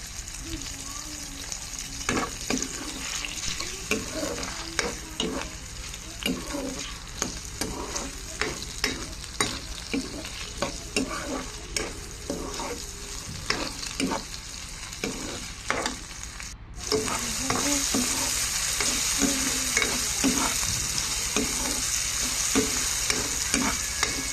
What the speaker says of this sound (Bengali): এখন এগুলো একটু পাঁচ থেকে ছ মিনিট ভেজে নিব